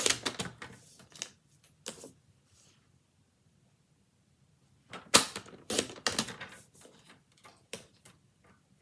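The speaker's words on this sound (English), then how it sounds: "Let me bring in my paper trimmer." A paper trimmer slices through card stock in short bursts of sharp clicks and scrapes, one cluster near the start and another after a few seconds of quiet, all close and crisp.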